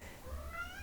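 A cat gives one short, rising meow, fairly quiet and close, in an otherwise still indoor room.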